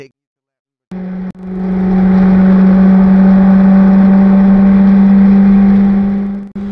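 Formula V1 race cars scream past at Clark International Speedway, a loud sustained high-revving engine drone that swells in and fades out as they race close together.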